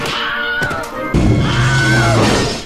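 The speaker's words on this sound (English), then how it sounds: "And also a Wilhelm scream, just like in Indiana Jones." A Wilhelm scream sound effect in an animated cartoon: a loud, wavering, high-pitched cry, followed partway through by a heavy crash and thud, with the yell continuing over the impact.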